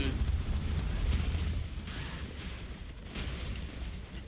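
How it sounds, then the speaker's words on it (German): Deep booming explosions in the video game Broforce roll and rumble continuously, with a few sharper bursts cutting through the low roar. "das sind ganz viele Explosionen"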